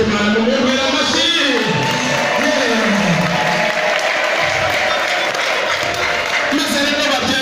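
Wedding audience applauding, a loud sustained wave of clapping and crowd noise with a voice and music running over it.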